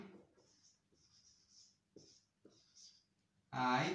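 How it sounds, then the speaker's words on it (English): Pencil writing on paper in short scratchy bursts with pauses between strokes, fairly faint, ending with a louder burst of noise. "ready with your paper and pencil. Now let us write."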